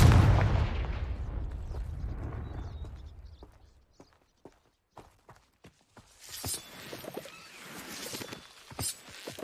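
A Confringo explosive spell in a video game: one loud blast right at the start that rumbles and fades over several seconds, followed by quiet footsteps and small scattered sounds.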